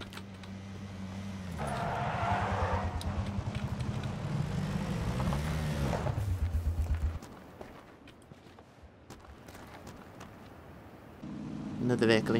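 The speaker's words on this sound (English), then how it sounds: "Another vehicle incoming." A vehicle engine in a battle-royale shooter, a droning motor that rises and holds for several seconds, then drops away and returns loud at the end, with someone talking over it.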